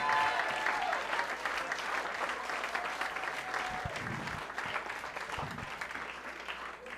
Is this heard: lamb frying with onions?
no